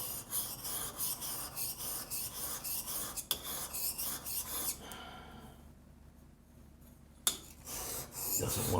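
A block plane blade is honed on a stone to turn the burr back, heard as close, rhythmic rasping strokes repeated steadily, then a brief quiet pause with a sharp tap before the rubbing resumes.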